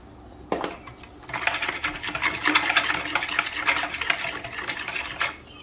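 Someone stirs a smoked mac and cheese mixture in a bowl, making a wet, squelching, scraping churn that starts after a single knock and continues steadily for several seconds at close range.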